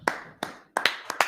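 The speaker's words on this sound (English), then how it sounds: "Clap it up" A handful of separate, sharp hand claps ring out in an uneven rhythm at a gathering, fairly close and isolated, without continuous crowd noise.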